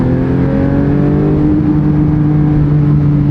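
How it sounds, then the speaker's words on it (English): A Porsche 911 GT3 engine in limp mode holds a steady high-rev drone against its rev limiter, a loud sustained tone running continuously throughout with no speech. "And it's like a rev limiter as soon as I hit it."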